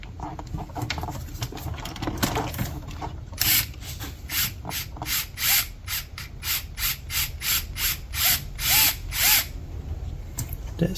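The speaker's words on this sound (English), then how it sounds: "it's 8mm socket to remove that wheel" A power driver spins an 8mm socket to remove a wheel from a Losi LMT RC monster truck, giving a series of repeated short whirring bursts with a steady rhythm, growing louder toward the end and heard alone without talk.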